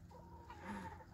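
Sussex hen giving a short cluck up close, a single brief call over quiet outdoor background.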